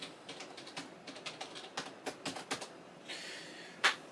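Keystrokes on a computer keyboard as a password is typed during TrueNAS setup on an old computer, a fairly quick irregular run of light clicks and taps, close and moderately quiet, ending with one sharper key press.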